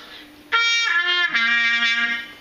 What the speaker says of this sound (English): it sounds like you're playing on a Harmon mute with one of these things in it.